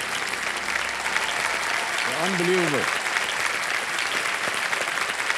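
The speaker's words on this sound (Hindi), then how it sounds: "जोरदार तालियां बज जाए इनके लिए" Studio audience on an Indian television quiz show bursts into sustained, loud applause lasting the whole stretch, with someone speaking briefly over the clapping.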